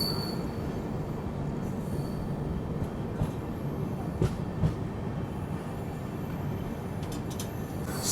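Hadapsar–Rewa Superfast Express running near Daund chord line station, a steady rolling rumble of wheels on rails with faint squeals and a few clanks, continuous and close, no talking.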